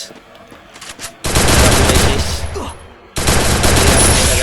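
Bursts of automatic gunfire in a video game, two loud sustained volleys split by a short pause, rattling close and dense after a quieter opening.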